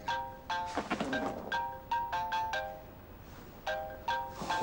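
A mobile phone ringtone plays a repeating pattern of bright electronic tones in quick bursts with short gaps, fairly quiet and close, with no talking.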